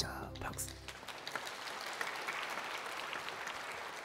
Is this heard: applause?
yes